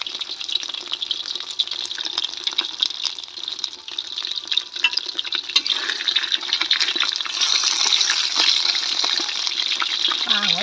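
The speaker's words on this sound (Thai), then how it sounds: "แล้วเราผัดพริกแกงกันเลยนะคะ" Thai curry paste stir-fried in oil for a fish dish, a loud, close, continuous hiss of frying that grows slightly busier toward the end.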